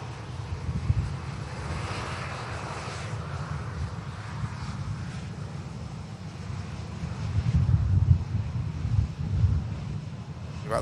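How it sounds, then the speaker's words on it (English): A Brussels Airlines A320neo jet takes off at Manchester Airport, its engine roar a broad distant rumble that swells near the end, with wind buffeting the microphone. "Brussels just taking off Neo back to base."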